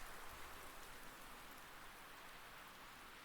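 Steady rain falls in the video game Rising World, a dense, even hiss of drops on surfaces that holds level throughout with no voices.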